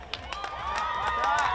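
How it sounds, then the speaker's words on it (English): A crowd at an Australian rules football match between Vermont and Mt Evelyn roars steadily and builds, with claps and cheers close and loud, a commentator talking over it. "Listen to the crowd"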